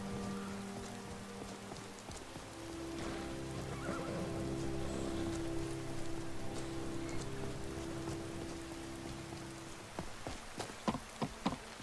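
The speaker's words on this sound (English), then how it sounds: "Still raining." Steady rain falls in the video game Skyrim, a continuous wash of patter under low ambient game tones, with a few sharper drip-like clicks near the end; no talking.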